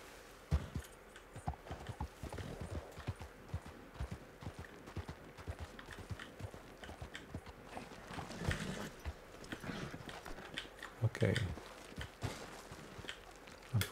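A horse's hooves clip-clopping steadily in Red Dead Redemption 2 as it picks its way through a steep canyon, quiet close steps in an irregular walking rhythm with no talking.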